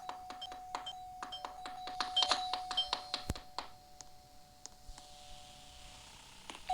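Rapid electronic chime-like beeps from a doorbell in the Roblox game Brookhaven, a quick series of bright tones repeating several times, then fading to quieter tones near the end, with no talking.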